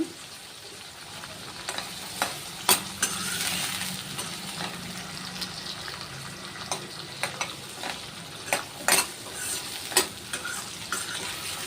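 Mixed vegetables sizzle and crackle as they are added to a hot oil spice tempering, with a steady frying hiss and occasional sharp clinks and scrapes of a spoon stirring.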